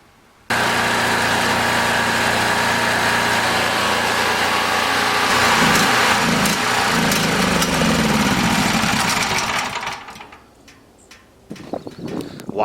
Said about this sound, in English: I left the generator going here